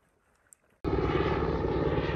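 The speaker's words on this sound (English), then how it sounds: "It's a Border Patrol helicopter flying around us right now" After a near-silent start, a loud droning roar of a Border Patrol helicopter flying overhead cuts in abruptly and holds steady, heavy and rumbling, with no voices.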